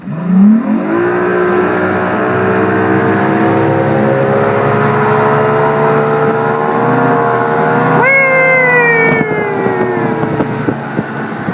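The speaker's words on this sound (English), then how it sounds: "Eric's gonna put throttle down. We want you to watch this new motor push this Ranger 620 out of the water" An outboard motor, a new Evinrude G2, roars at full throttle pushing a Ranger 620 bass boat, its pitch climbing steadily as the boat speeds up, with a brief surge in pitch near the end, loud and close.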